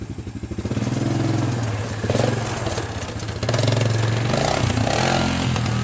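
A Suzuki Ozark 250 ATV engine runs steadily close by, its low, pulsing exhaust lifting in a few throttle surges.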